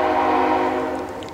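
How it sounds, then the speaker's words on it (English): A train sounds a loud, sustained horn nearby with a rich chord of tones over low rumbling rail noise, the blast fading slightly toward the end. "please excuse the train"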